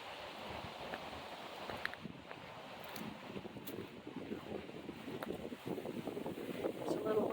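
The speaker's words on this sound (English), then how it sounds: "It's a little windy out here." Wind gusting outdoors beside the 1862 Cornwall Cold Blast Furnace, a steady broadband rush and buffeting that builds toward the end, with faint rumbling on the microphone and nobody talking.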